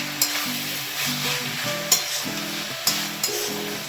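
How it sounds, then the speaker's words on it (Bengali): A spatula mashes potatoes and pumpkin in a curry sizzling over a high gas flame, giving a few sharp scraping clicks over a continuous close frying hiss. "আলুগুলোকে কুমড়োগুলোকে একটু স্ম্যাশ করে দিতে হবে খুন্তির সাহায্যে।"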